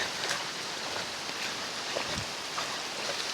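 Rain falling in a mountain forest, a faint, even hiss of drops pattering on leaves and ground throughout, with no voices.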